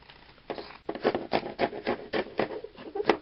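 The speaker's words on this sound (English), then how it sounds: "I just went ahead and I cut about ½ inch strips" Scissors cut denim from old jeans into half-inch strips, making a quick series of close, rhythmic crunchy snips and rubbing sounds, about a dozen in a row, with no talking.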